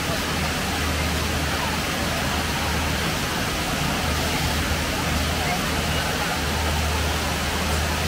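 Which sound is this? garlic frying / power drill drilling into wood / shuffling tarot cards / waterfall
waterfall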